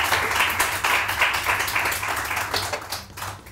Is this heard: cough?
no